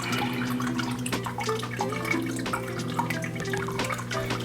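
Water pours from a container into an aquarium tank as baby albino plecos are released, a continuous close splashing and trickling with scattered drips, loud and unbroken throughout.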